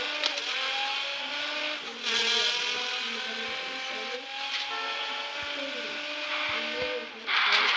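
Car engine in a driving video game, a steady buzzing whine that rises and falls in pitch with gear shifts, loud and continuous throughout.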